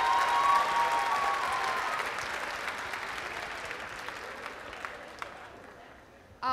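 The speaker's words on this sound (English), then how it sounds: "Let's have a round of applause for our 2023 Winter Court." A crowd at a high school winter pep assembly applauds the 2023 Winter Court, dense clapping loud at first and gradually fading out.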